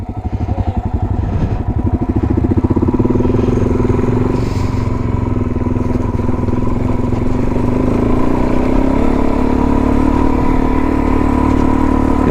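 A motorcycle pulls off in first gear, its engine rising from a rough idle into a steady, loud drone that holds close by for several seconds, with some mechanical clatter.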